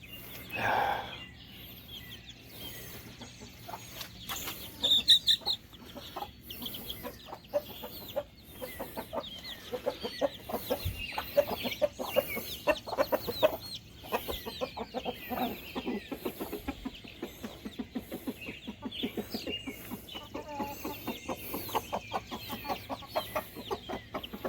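Chickens cluck on and off at close range, with soft, busy calls that rise into louder bursts partway through and continue to the end.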